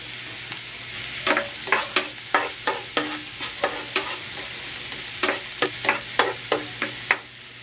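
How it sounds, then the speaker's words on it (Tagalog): Ginger sautés in hot oil in a pan, a steady sizzle broken by about a dozen crisp scraping stirs of a utensil in a loose, uneven rhythm, close and fairly loud. "Igigisa ko na tong luya"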